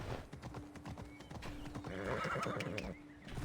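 A video-game horse in Assassin's Creed Odyssey trots with steady clip-clop hoofbeats, then a loud whinny rises in the middle, close and clear over a faint background hum.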